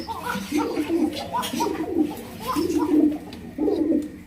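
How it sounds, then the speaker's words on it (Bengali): Fancy round pigeons coo in repeated bursts, several birds calling close by in a steady rhythm of soft throaty phrases, with no speech. "কোকা কিন্তু ডাক শুরু করে দিচ্ছে।"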